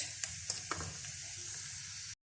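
Potatoes, capsicum and other vegetables fry lightly in a pan with a faint, even sizzling hiss, broken by a few small clicks near the start before it cuts off abruptly.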